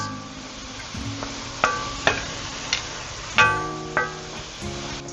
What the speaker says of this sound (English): Scraping the bottom of the pan just to get all these brown bits